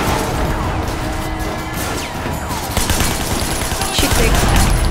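Gunfire from the open-world crime game Sleeping Dogs, heard as dense crashing bursts and impacts over a steady roar of game noise, with faint talk underneath.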